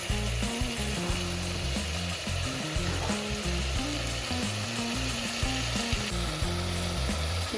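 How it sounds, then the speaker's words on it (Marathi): Tomatoes sautéing in a pan make a steady, close sizzle, with a stirring utensil scraping and knocking against the pan in an uneven rhythm throughout. "टोमॅटो चांगला परतून घ्यायचा."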